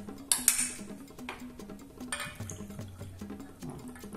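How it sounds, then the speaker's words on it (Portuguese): Water is poured over soaked, sprouting soybeans in a kitchen, with splashy pouring bursts near the start and around two seconds, plus faint clinks and steady background music. "Eu vou adicionar 4 xícaras de água."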